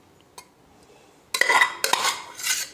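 Spinach rice is moved into a wide cooking vessel, with a faint tap, then a cluster of close metal scraping and clinking clatters from utensil against pot, without talking.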